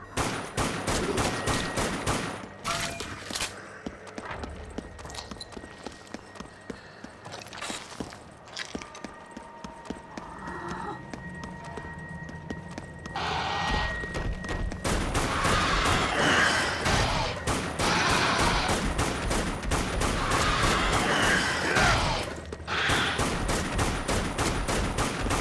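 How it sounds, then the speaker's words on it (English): Rifle gunfire in the zombie shooter Dead Nation, rapid repeated shots in sustained bursts over a dense game soundtrack, growing into a louder chaotic barrage of crashes and impacts in the second half. "Rifle."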